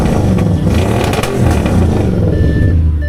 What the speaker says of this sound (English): Fires into life, give it a bit of the old tap of the old throttle.